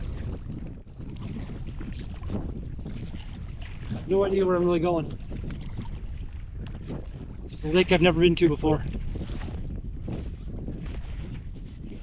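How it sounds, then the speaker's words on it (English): Steady wind buffets the microphone throughout, a low rushing roar, while someone talks in two short bursts over it, kayaking on a lake in Northern Ontario. "It's quite windy."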